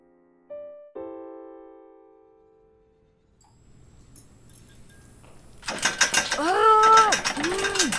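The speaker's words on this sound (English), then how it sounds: "Candy and Tinfoil are being held captive in a discarded elevator cage." An old mine elevator cage mechanism clanks and ratchets up close, with a metallic knock and ringing tone early, then a loud grinding, rattling clatter and squealing whine near the end.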